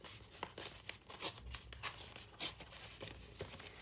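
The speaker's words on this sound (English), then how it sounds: "I do have this blue here I'm going to rip out." Blue paper is torn out of a Bible journaling packet, making several quick ripping and crinkling bursts in an irregular rhythm, close up and moderately quiet, with no talking.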